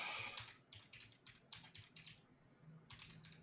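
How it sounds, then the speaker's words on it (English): Rapid, uneven clatter of fingers typing on a computer keyboard, close and clear, in bursts with short pauses throughout. "Just the sound of Chris typing."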